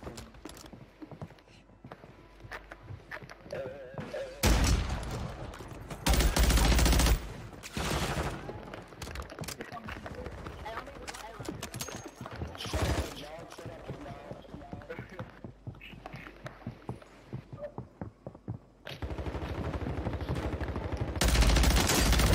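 Gunfire in Warzone 3, including a battle rifle, with repeated sharp shots and automatic bursts in several loud clusters, mixed with a man's speech throughout.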